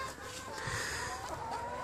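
Hens clucking softly amid a busy farmyard background, with scattered short calls over a steady noisy ambience.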